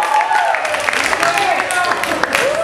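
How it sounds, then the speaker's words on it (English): An audience at the FASA UP PCN 2015 show claps and cheers for a contestant: a dense, steady wash of applause throughout, with a voice speaking over it. "Let's give him a round of applause."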